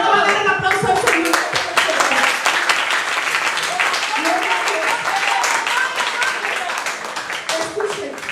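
A church congregation applauds the Lord, with loud, dense clapping sustained throughout and voices mixed in beneath the crowd noise.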